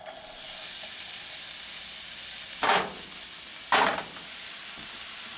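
Onions sizzle steadily in hot oil in a medium-heated pan, a close, continuous frying hiss broken by two brief louder bursts as they are stirred.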